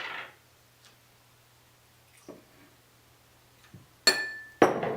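Miso paste and rice vinegar being mixed into a sauce in a glass dish for nori rolls, with a few soft taps followed by two sharp, ringing clinks near the end. Close and quiet between the hits, with no talking.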